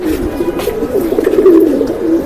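Pigeons coo close by in a loft in soft, throaty, repeated calls that overlap in a continuous murmur.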